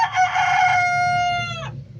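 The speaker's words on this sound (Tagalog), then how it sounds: "Tilaok ng manok." A single rooster crows loud and close, one long harmonic cock-a-doodle-doo that holds steady then drops off sharply, over a low background hum.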